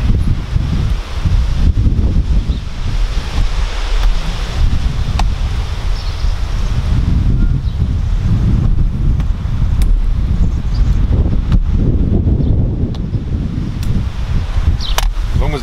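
Strong wind buffets the microphone outdoors beside a 2008 GMC Sierra Denali with a 6.2L engine, a steady loud roar and rumble with rustling gusts throughout and no clear talk.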